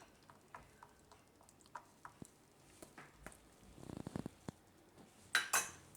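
A spoon clinks and taps against a bowl while puffed makhana is stirred into yogurt for Gujarati makhana raita, with light scattered ticks that build into a quick run of clinks and then a couple of sharper knocks.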